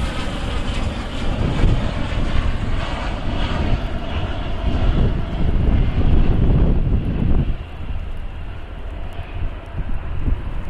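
A commercial passenger jet flies over Cleveland on a wet, misty night, its loud, steady engine roar rumbling and then easing away, with wind buffeting the microphone.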